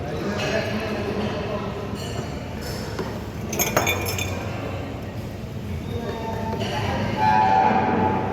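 A spoon clinks against a glass of iced drink at a busy eatery in Surabaya, with light scattered chinks heard over steady crowd chatter and voices nearby.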